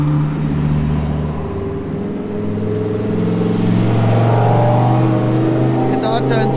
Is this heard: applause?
no